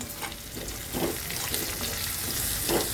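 Bitter gourd slices with a pinch of salt and sugar being stir-fried in oil over a low flame, giving a steady, soft sizzle broken by occasional scraping stirs of the spatula, with no voices.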